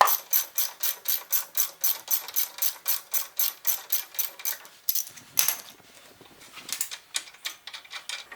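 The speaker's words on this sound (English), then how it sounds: "Once it's easy enough, you can switch to a ratchet." Ratchet wrench clicking steadily while loosening a bolt on the front shock of a 2010 Mazda3, with fast rhythmic bursts of close, crisp ratcheting, a short pause, then more clicking strokes.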